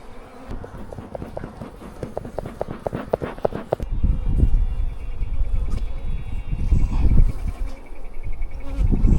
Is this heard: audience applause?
no